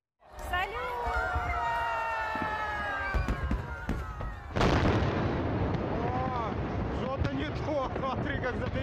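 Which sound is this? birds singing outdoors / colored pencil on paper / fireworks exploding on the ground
fireworks exploding on the ground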